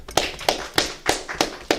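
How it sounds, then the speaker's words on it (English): Several people clap together in a Sabbath service class, six sharp claps at a steady, roughly even rhythm, fairly close and loud with no talk over them. "Clap it up."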